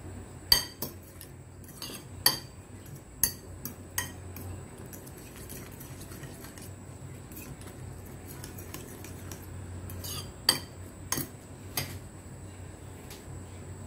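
A utensil clinks and scrapes against a bowl while a recipe mixture is stirred, sparse sharp metallic taps scattered over a quiet background, near and fairly soft, with longer gaps between clusters.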